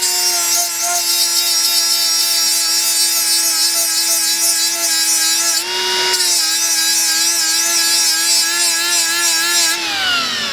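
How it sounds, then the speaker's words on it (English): An electric sander fitted with a very worn 120 grit disc grinds metal, giving a loud, steady high whine with brief pitch shifts as pressure changes and no talking. "get a 120 grit disc, very worn 120 grit disc in the sander"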